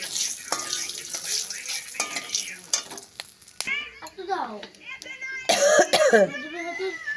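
Several coughs break out over a steady sizzling and stirring of bay leaves and cumin in a pan, with faint voice-like sounds mixed in.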